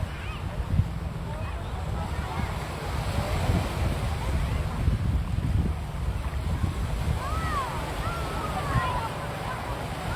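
Waves wash continuously onto the shore at Chao Samran beach, a steady roar mixed with wind buffeting the microphone and people's voices in the background.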